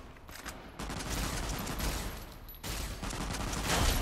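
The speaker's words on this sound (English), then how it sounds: "Plasma rifle." Plasma rifle firing in Fallout New Vegas, a dense, continuous burst of rapid shots with loud, crackling blasts running steadily through the moment, with no talking over it.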